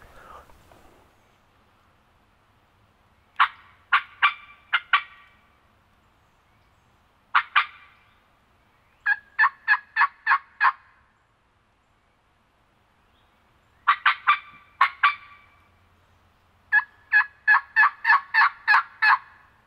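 A wild turkey gobbles from a field on public land during a Tennessee hunt, sounding as several separate bursts of rapid, rattling gobbles at moderate distance, with quiet pauses between the bursts and no talk.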